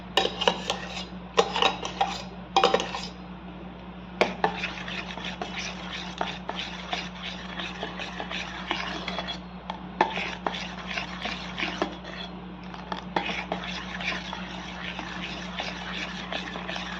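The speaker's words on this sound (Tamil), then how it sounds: "இது மாதிரி நல்லா கலந்துக்கிட்டு" A spoon stirs a mango pudding mixture of milk, sugar and mango in a bowl, making repeated clinks and scrapes over a low steady hum.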